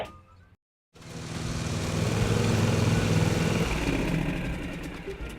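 Gasoline lawn mower engine running outdoors after a brief silence, a loud, steady buzzing drone that holds evenly for several seconds with no talking.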